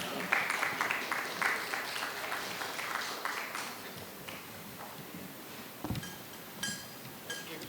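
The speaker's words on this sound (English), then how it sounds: "Applause, please." Audience applause at a shipbuilding panel discussion on fleet expansion, moderate and scattered, thinning over several seconds into sparse claps with a few knocks and room noise.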